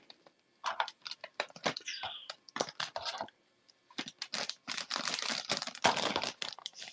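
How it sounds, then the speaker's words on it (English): A Jango Fett action figure with two small blaster pistols is slipped into a plastic bag, giving close, busy crinkling and rustling in irregular bursts with short pauses. "So let me just bag him up real quick"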